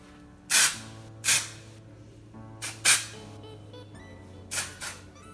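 Short, sharp hisses of a spray bottle spraying sectioned hair, fired in quick bursts, some in close pairs, with quiet pauses between.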